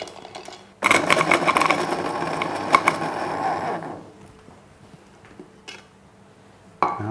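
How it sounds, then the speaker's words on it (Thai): A blender grinds freeze-dried crispy strawberries into powder for a strawberry tiramisu, a loud close rattling whir lasting about three seconds that then cuts out, followed by a few faint knocks and a sharp clatter. "เราจะเอาสตรอเบอรี่อบกรอบเนี่ยครับ ไปปั่นให้เป็นผงก่อนครับ"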